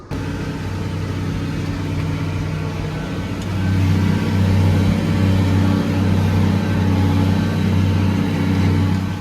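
A farm tractor's engine runs steadily from inside the cab, a droning mid-pitched hum that rises in loudness partway through and then holds at a constant working level.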